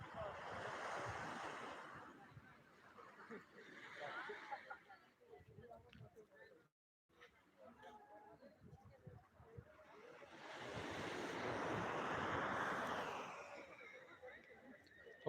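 Waves surge and wash against the seawall at Digha beach at night as the tide rises, swelling and fading in broad slow pulses, with faint wind and people talking under the surf.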